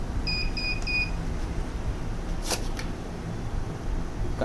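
A Cashtron 2030 currency counting machine gives a quick run of short, high electronic beeps close by. The beeps are followed by a steady background hum and a couple of faint clicks.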